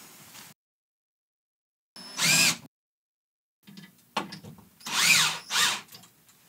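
A power drill takes screws out of a home theater screen wall frame. It runs in short, close whirring bursts that rise and fall in pitch, separated by silent gaps, with no talking.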